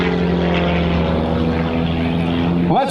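Blue Angels jets approach at an airshow at close to 400 miles per hour. A loud, steady engine roar fills the air, and near the end a sharp pitch sweep marks a close pass.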